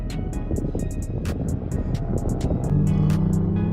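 A Lexus IS300 runs laps around a drift track, its engine droning loud and steady with a deeper, rising pull near the end, while sharp intermittent bursts cut through.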